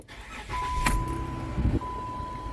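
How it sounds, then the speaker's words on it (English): A car engine starting, a brief starter crank followed by the engine catching into a steady running rumble, with a chime tone sounding in the cabin, close and alone. "Now we're going to start the car."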